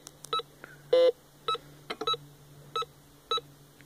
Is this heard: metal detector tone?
yes